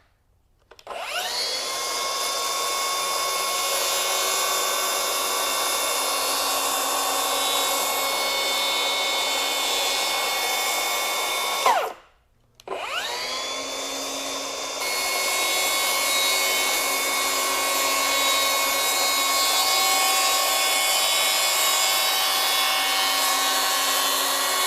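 Milwaukee 6-1/2" plunge track saw cutting hardwood, a loud steady whine in two long passes separated by a brief stop and restart, close and continuous.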